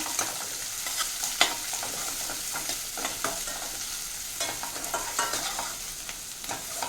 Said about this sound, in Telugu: చాప్ చేసుకున్నానండి ఒక ఆనియన్. అది కూడా వేసి మిక్స్ చేద్దాం.